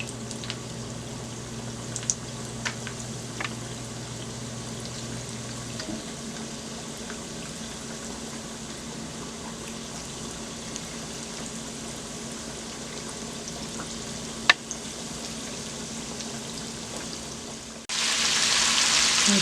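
Chicken wings dropped into hot oil, a continuous low frying hiss with occasional small crackles and pops throughout, swelling into a louder sizzle near the end; no voices.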